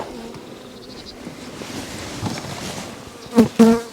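Honeybees buzz around a beehive, a steady droning hum close by, with a couple of louder buzzing passes near the end as bees fly past.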